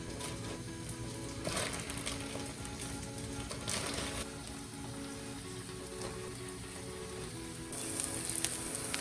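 Onions fry in a pan beside straight-cut fries with a soft, continuous crackling sizzle that runs faintly throughout, with a few louder bursts of spatter.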